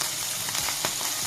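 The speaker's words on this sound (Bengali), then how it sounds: "কয়েক মিনিট হয়ে গেছে পনিরগুলো ভাজা হচ্ছে" Paneer cubes frying in a pan on a raised flame, giving a close, steady hiss of sizzling oil with a few sharper pops and crackles.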